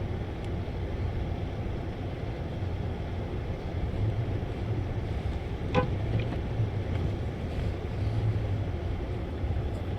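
A 2006 Ford Crown Victoria drives through heavy snow in a Minnesota snowstorm, a steady low engine and road rumble heard from inside the car, with a faint brief squeak midway.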